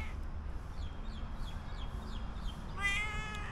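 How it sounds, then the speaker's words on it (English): A temple cat meows in a series of short, rising cries against a low background rumble, ending with a longer, louder meow. "This cat from the temple."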